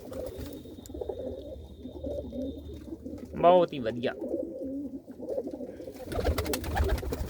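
Pet pigeons in a home loft with a newly hatched chick give a short burst of throaty cooing near the mic, with someone talking over ambient noise before and after.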